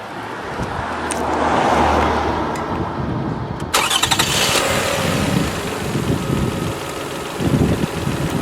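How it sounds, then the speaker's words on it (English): A car engine cranks and fires up with power from a BOOKOO Q6 1600A peak jump starter pack, a sharp catch near the middle followed by a steady, fairly loud idle, with no talking. "And now we'll start the car."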